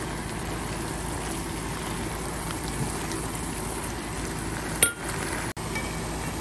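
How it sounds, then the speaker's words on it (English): Portobello mushrooms sauté in a pan with a steady, even hiss and light crackle, broken by a sharp clink and a brief drop near the end, close and without talk. "So now I'm adding the portobello mushrooms, and I'm going to saute them for like 7 to 8 minutes"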